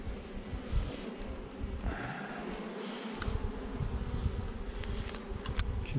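Honeybee colony buzzing steadily inside an opened hive, a dense continuous drone from many bees close by, with a few sharper individual flights passing near and no talking.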